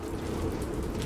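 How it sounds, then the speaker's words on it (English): Unrefined energon rains down in the Transformers War for Cybertron video game as a dense, steady hiss of falling drops with a low rumble beneath, brief and uniform. "It's literally acid rain."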